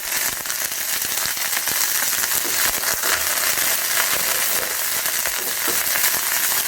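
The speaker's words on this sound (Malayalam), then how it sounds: "ഇതിലേക്ക് നമ്മൾ 2 തണ്ട് കറിവേപ്പില ഇട്ട് കൊടുക്കുന്നു." Two sprigs of curry leaves sizzling in hot coconut oil, a dense, steady crackle and spatter running close and loud throughout with no voices.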